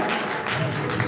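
Audience at a Jain religious gathering in Kandhla, a kalash sthapana ceremony for Muni Shri Prabhavna Bhushan ji Maharaj, claps for the local organiser: a brief, dense, steady patter of many hands filling the hall.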